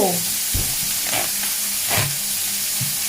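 Food frying in hot oil gives a dense, crisp sizzle with bursts of bubbling and stirring, close and continuous throughout.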